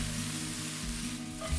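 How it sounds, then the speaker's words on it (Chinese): Onion, mushroom, sliced garlic and cabbage stir-fry in a pan that just held steak, a steady close sizzle with soft stirring scrapes, no talk. "下蒜片、卷心菜，稍微炒软"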